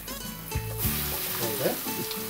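Crushed garlic sizzles in a pan in a toddy shop's open kitchen, a steady bright hiss running under people talking nearby.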